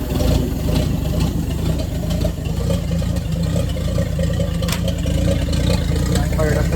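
A 1960 Chevrolet Bel Air engine idles steadily and loudly up close, a continuous low rumble that holds an even tone throughout.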